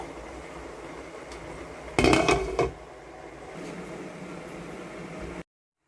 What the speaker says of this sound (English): Now I'm going to cover it to cook.